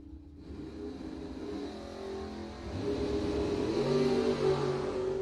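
Rear-engine dragster at a bracket drag race, the engine revving and building steadily in loudness, a rising roar that grows stronger toward the end with no talk over it.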